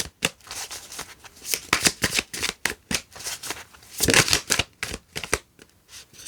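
Tarot cards being shuffled by hand in a rapid run of crisp, riffling bursts and slaps, close and fairly loud, with brief pauses between passes and no talking.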